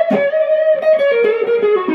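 An electric guitar plays a lick based on the E pentatonic scale, a quick run of clean, distinct notes with bends, close and solo without any voices.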